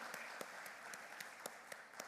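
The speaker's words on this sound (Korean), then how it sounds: "우리 서로에게 감사와 격려의 박수 주면 좋겠습니다." A church congregation gives a round of applause, a soft steady patter of many hands with a few sharper individual claps standing out at regular intervals, heard from some distance.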